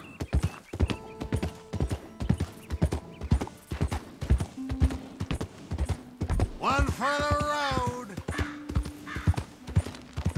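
Horse hooves clip-clopping at a steady walking rhythm while riding in the video game Red Dead Redemption 2, with a horse whinnying midway and people talking over the hoofbeats.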